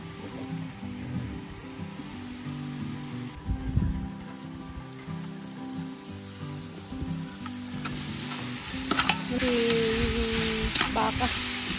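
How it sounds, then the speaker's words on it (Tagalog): Black pepper sautés in a pan with a steady, soft sizzle and crackle of frying, close by and moderately quiet, with a few brief clinks and stirring sounds. "Ginigisa ko po ang paminta."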